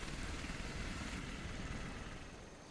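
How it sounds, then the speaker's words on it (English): Helicopter gunship unit from Civilization 5, a dense rotor and engine roar that holds steady and close, then fades slightly toward the end, with no voices. "Helicopter gunship."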